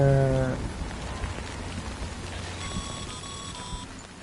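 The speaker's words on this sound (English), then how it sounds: "Good thing it was raining." Steady rain pours in a video game, a dense even hiss lasting the whole stretch, opened by a brief loud harmonic tone and later joined by a few short electronic beeps.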